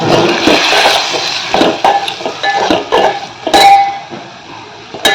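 Ground turmeric, chili powder and garam masala stirred in a pan for a Malvani drumstick curry, with repeated clinks and scrapes of a metal spoon against the pan and a light sizzle underneath.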